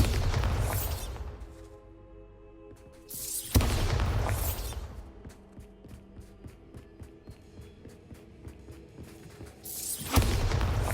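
The Bombarda spell exploding in Hogwarts Legacy: several deep, loud booms with crashing debris, separated by quieter spells of rumbling echoes and scattered small impacts.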